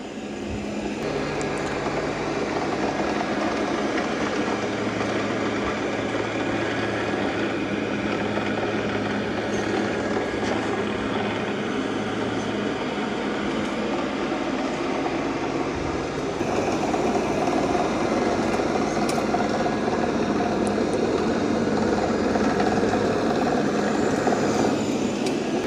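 A robot vacuum cleaner, either a Roomba i5 or a Shark IQ, runs across a floor with a loud, steady whirring drone that holds for the whole stretch and grows slightly louder near the end, with no talking.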